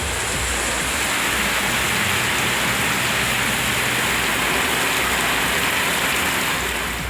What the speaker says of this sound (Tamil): மதுரை மாவட்டம் திருமங்கலம் சுற்றுவட்டார பகுதிகளில் கனமழை பெய்தது.